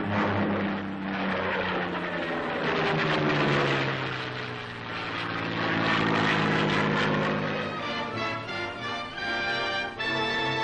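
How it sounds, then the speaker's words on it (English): Propeller airplanes drone low over apple orchards in blossom during pollination runs, engine noise swelling as they pass close, dipping briefly, then rising again with a shifting pitch. "Airplanes are also used in this artificial but effective means of pollination of the apple blossoms."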